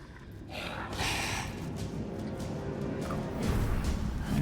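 Ragged, heavy breathing of a character in the Divinity Original Sin 2 video game, a steady rush of breath with a sharper gasp near the start, swelling again toward the end, loud and close with no talk.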